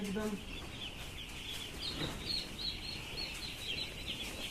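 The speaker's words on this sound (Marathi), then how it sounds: "एकदम पक्षी फ्रेश आहे. तिसरा दिवसाचा आहे." Three-day-old poultry chicks on a farm cheep in a faint, continuous chorus of high peeps, with a short voice at the start.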